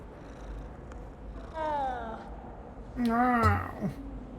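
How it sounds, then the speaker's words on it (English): A cat in Hogwarts Legacy purrs softly as it is petted, a low steady rumble beneath short spoken lines of game dialogue. "we're petting a cat again"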